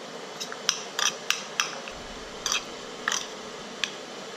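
Fork or utensil clinks and taps against a bowl while raw shrimp is mixed with a pinch of salt and pepper, a series of close, crisp metallic knocks in an uneven rhythm.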